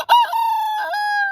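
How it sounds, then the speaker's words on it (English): A rooster crows loudly and close by, one long drawn-out cock-a-doodle-doo call with a clear tonal, strained quality and a brief break partway through, heard alone with no talking. "someone's loud ass rooster's crowing"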